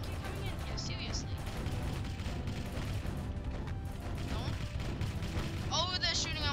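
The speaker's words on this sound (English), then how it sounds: "Seriously, they're using guns?" Gunfire in a boat video game crackles in rapid, overlapping bursts amid cannon booms and splashy effects, with a person talking excitedly throughout.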